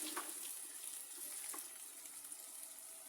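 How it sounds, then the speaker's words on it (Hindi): A glass of water poured into a cooking pot of potatoes and white beans for lobia curry, a faint steady splashing flow lasting a few seconds with small bursts of gushing. "1 गिलास भर के पानी में डालूँगी"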